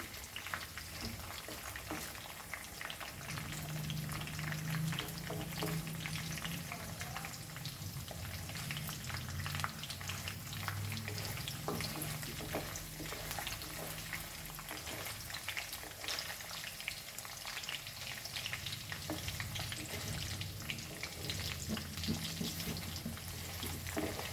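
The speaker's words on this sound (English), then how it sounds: "And fry this for a few minutes." French beans frying in a pan for Goan foogath give off a steady, even sizzle with faint crackles, close and continuous for over twenty seconds, with no one talking.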